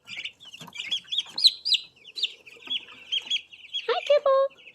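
Young hatched poultry birds cluck and chirp close by in quick, uneven bursts of short calls, ending in a louder run of higher peeps.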